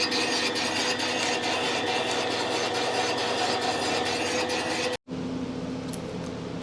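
A boring machine cuts the cylinder of a Yamaha CT-3 during a second pass, giving a steady, dense grinding whir that holds evenly for about five seconds, breaks off abruptly, then resumes fainter.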